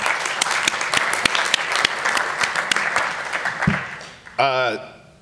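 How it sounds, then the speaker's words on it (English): An audience applauds Senator Funke at a school veterans' event, dense sustained clapping that fades out, followed by a brief voice at the end. "So, round of applause for Senator Funke, please"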